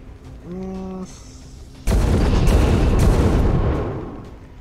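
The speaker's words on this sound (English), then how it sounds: "Oh, that's gonna explode, isn't it?" In the video game XCOM 2, a brief tonal hum gives way to a sudden loud blast, followed by a sustained roar of rapid gunfire and explosions that fades toward the end.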